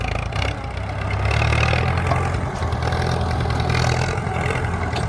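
A diesel tractor engine runs steadily, a continuous low rumble that swells slightly and holds, close by.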